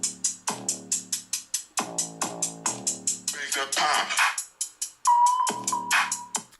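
Music plays through the four Dolby Atmos-tuned speakers of a OnePlus Open phone, a punchy, bass-heavy track with sharp repeated beats and a sustained tone near the end, heard clearly with no talking.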